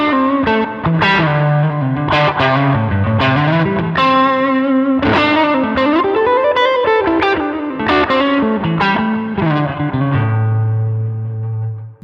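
A heavily distorted electric guitar plays a loud, gritty melodic phrase with bends and sustained notes, finishing on a held low note.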